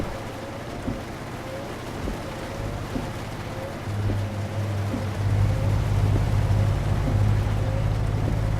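Rain in the Euro Truck Simulator 2 driving game, a steady hiss of rainfall over a low engine and road rumble that swells louder partway through, with faint periodic ticks and no talking.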